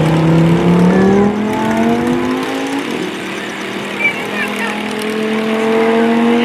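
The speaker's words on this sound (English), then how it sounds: "Whoa, look at this. Doing donuts, baby." A car spins donuts at an airshow, its engine revving in a strong, steady drone with a pitch that climbs, dips and rises again. A tire squeal is possible but not clear, and it plays alone without speech.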